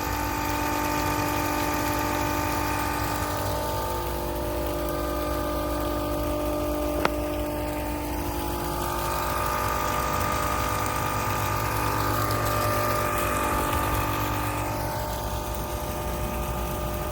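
A pump drains water out of an excavation during installation of a dresser compression coupling on a water main, giving a steady droning hum with faint gurgling, constant and close, plus one brief click.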